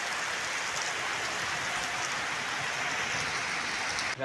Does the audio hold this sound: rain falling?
yes